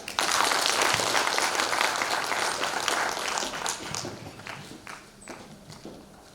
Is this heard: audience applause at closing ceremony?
yes